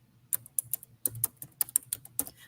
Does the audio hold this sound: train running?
no